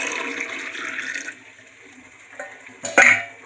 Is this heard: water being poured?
yes